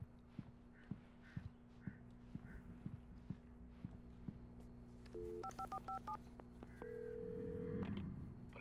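In the video game Alan Wake, a telephone is dialed: a short run of clear keypad tones in quick succession, then a steady tone, after a series of soft footsteps, all fairly quiet.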